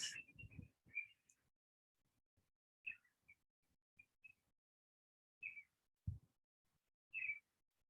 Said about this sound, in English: Probably a bird in the background.